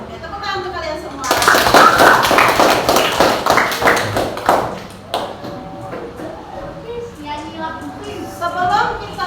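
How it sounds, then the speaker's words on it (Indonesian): Students in a classroom break into a burst of group clapping lasting a few seconds, with speech before and after it. "tepuk tangan untuk kalian semua."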